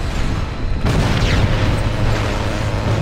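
A vehicle explodes in the jet combat video game Ace Combat Assault Horizon. A loud, sudden boom cuts in partway through and trails off into a long, heavy rumble over steady engine and battle noise.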